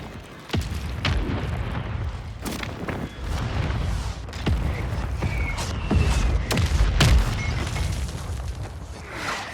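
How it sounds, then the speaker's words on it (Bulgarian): Mortar explosions in Call of Duty Modern Warfare 3 ranked play on Xbox Series X, a series of loud, close booming impacts over several seconds amid continuous rumbling battle noise, with no talking. "Още един мортар."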